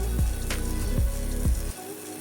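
Fish pieces fry in hot oil, giving a steady sizzle with a few bubbling swells and drips before the sound cuts off abruptly near the end.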